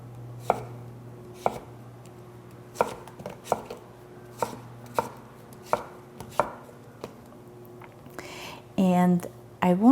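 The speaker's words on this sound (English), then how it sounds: "Cut your zucchini into boards. Cut those boards into French fries." Knife chopping zucchini on a cutting board, slow separate chops spaced about a second apart, close and crisp against a low steady hum, with brief rustles near the end.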